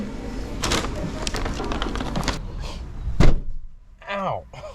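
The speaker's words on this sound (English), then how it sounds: "Oh, I just slammed the door on myself." A car door slams once with a heavy, close thunk after a stretch of rustling movement, followed by a brief voice.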